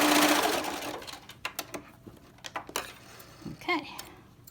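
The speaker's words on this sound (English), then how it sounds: "You want the top laying nice, and sew the rest of the seam." A sewing machine finishes a seam on a cloth face mask with elastic, a brief loud whir at the start that cuts off into scattered light clicks and handling taps.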